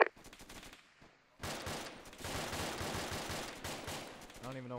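Gunfire in the video game Arma 2 during a firefight with an enemy convoy, with a sharp opening shot, a brief lull, then dense rapid bursts of shots rattling on continuously.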